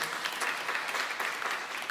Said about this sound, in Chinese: 我们应该也是拍掌要给谢谢他们了哈